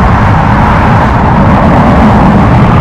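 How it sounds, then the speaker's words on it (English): Loud highway traffic beside a cemetery, a dense continuous roar of passing vehicles at close range, steady and broadband with no pauses and no voices. "So, traffic is crazy loud. Look, guys. Like, literally, the highway."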